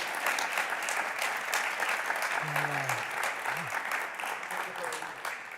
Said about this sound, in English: Once again, a nice round of applause.